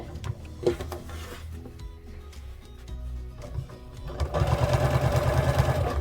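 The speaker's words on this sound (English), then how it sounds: "And I'm still using the walking foot, especially important with all of these layers of fabric." A sewing machine fitted with a walking foot stitches through thick layers of quilt fabric, with scattered handling noises giving way to a rapid, rhythmic close stitching rattle toward the end.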